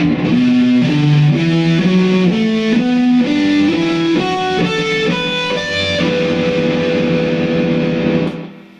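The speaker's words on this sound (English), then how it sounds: "but when they put the distortion on, it sounds like this." An unmuted electric guitar with distortion switched on rises through a run of notes. Harmonics and ringing strings pile into a dense, saturated roar that holds loudly before cutting off at the end.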